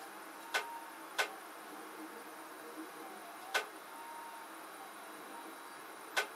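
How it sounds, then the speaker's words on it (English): A 3D printer's servo arm jumps and bangs against the printer's edge, giving four sharp, isolated knocks spaced irregularly over a faint steady hum, fairly close and with no voices. "it's actually banging against the edge of the printer here"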